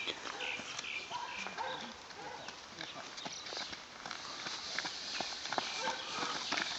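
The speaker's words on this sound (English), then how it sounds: "Oh yes, Jonesy, what a horse. What a horse." Hooves clip-clop steadily at a walking pace, moderately close, with people talking over them throughout.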